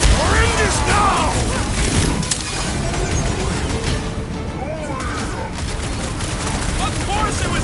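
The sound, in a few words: sniper gunfire in the video game Guardians of the Galaxy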